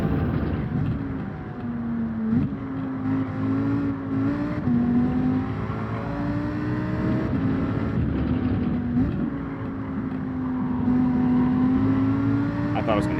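A race car engine in a racing game on the Nurburgring sprint circuit drones steadily and rises in pitch as the throttle opens, shifting through gears with short dips, while someone talks over it.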